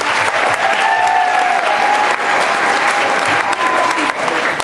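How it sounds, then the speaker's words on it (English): An audience claps at a school Diwali celebration, giving sustained, dense applause that carries on steadily at full loudness throughout. "Give them all a big round of applause."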